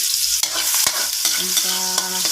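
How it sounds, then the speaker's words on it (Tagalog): Crushed ginger and aromatics sautéing in a pan, a steady sizzle broken by a few sharp stirring scrapes and clanks, close and fairly loud with no talk. "igisa lang natin ang ating mga ricados"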